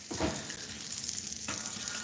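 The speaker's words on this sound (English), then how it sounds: "she's gonna deep fry me a pickle right there" A pickle deep frying in hot grease gives a steady, close crackling sizzle that runs throughout, with a couple of brief louder bubbling flares.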